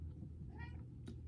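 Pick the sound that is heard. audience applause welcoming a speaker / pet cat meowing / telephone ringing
pet cat meowing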